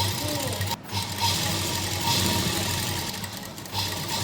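A sewing machine stitches salwar fabric in a steady, close mechanical whirr, broken by a brief pause, with faint voice in the background.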